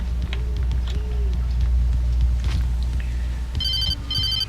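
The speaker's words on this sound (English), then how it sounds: "A cell phone call." A cell phone rings in the game Alan Wake, two short bursts of bright electronic tone near the end over a low ambient rumble.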